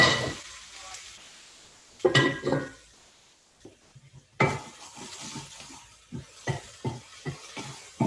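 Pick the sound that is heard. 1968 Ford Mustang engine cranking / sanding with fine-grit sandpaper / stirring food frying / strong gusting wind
stirring food frying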